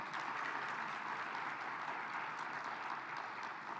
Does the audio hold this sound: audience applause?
yes